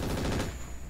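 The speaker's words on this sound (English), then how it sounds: "Didn't even get a chance to use the heavy machine gun until now." A heavy machine gun firing in the mech game Roguetech, a rapid dense stream of booming rounds that fades out within a second.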